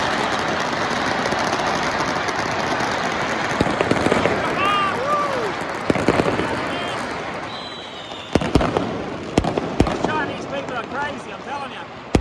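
Firecrackers and fireworks for Chinese New Year go off around a residential complex in a steady crackling barrage, punctuated by several sharp close bangs, with some whistling rockets and a faint vehicle hum underneath.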